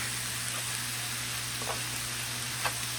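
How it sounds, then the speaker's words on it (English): Steak frying for a cheesesteak sizzles steadily in a hot pan, a constant close hiss with a couple of faint scraping stir sounds and no talking. "Again, I'm going to go ahead and give it a stir."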